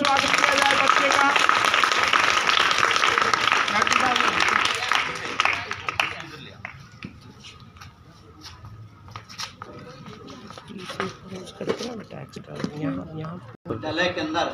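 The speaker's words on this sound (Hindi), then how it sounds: "जोरदार तालियों से स्वागत किया जाए बच्चे का।" A crowd at a Mother Language Day event in a government senior secondary school gives loud, dense applause to welcome a student, then the clapping stops and a person speaks over faint room noise.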